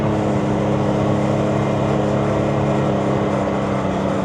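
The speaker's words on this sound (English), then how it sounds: "you're allowed to drive these side-by-sides on the road" A side-by-side off-road vehicle drives along a desert road in Arizona, its engine a steady, loud, continuous drone with rushing wind noise and no talk.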